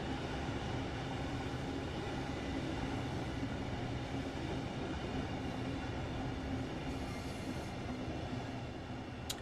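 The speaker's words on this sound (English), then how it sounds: "See the Thameslink service in the back passing." A Thameslink train passes, heard as a continuous rumbling rail roar with steady wheel noise, fairly faint and distant, with no pauses throughout.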